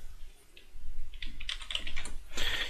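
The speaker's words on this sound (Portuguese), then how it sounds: "eu vou digitar aqui slice, S-L-I-C-E," Fingers type a short command for an AutoCAD 3D solids operation on a computer keyboard in a close, quick run of crisp key clicks that grows denser toward the end, with no speech.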